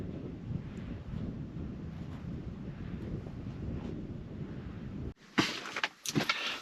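Steady wind roars and buffets a microphone outdoors at the Guerrero Negro lighthouse, then cuts off into a few sharp bumps and handling noises at the end.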